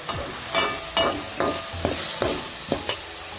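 Banana flower sautéing in a pan, stirred in repeated scraping strokes about every half second over a steady soft sizzle, close and fairly loud with no talking.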